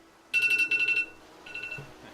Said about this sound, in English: Oh, sorry for that alarm. Alarm went off.